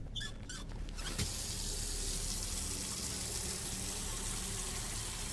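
Water filling a container in Autopsy Simulator, preceded by a few brief clicks and knocks, then a steady, even gushing stream that runs continuously to the end at moderate loudness with no voices.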